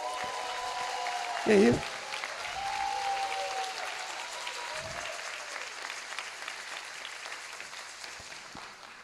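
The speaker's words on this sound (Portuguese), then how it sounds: "salve de palmas para a querida Denise Góes" An audience applauds Denise Góes during an inauguration speech ceremony, with the clapping running under a speaker's voice and a short question spoken partway through. A brief loud burst stands out early on, and the rest is a moderate, continuous wash.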